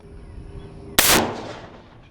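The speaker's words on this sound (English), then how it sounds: "this is our 450 Bushmaster against a sewer lid" A single sharp, loud 450 Bushmaster rifle shot striking a metal sewer lid, an abrupt blast with a ringing tail that decays over about a second, following a faint low background hum.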